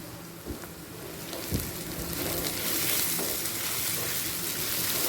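Onions with salt frying in a pan for chicken patiala, a steady soft sizzle and crackle that grows slightly fuller, with a couple of small knocks, no talking.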